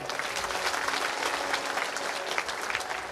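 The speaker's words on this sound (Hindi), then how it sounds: "आइए सब ताली बजा दो एक बार।" An audience at a Bhagavat Katha religious discourse claps in unison, a sustained, even wash of many hands at moderate distance with no speech over it.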